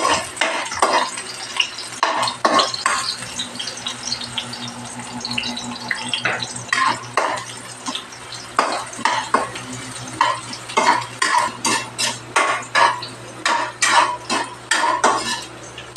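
Bitter gourd and egg sauté in a pan with chili, tomato, garlic and onion, as a utensil clanks and scrapes in irregular bursts over a low sizzle, close and loud, with no speech.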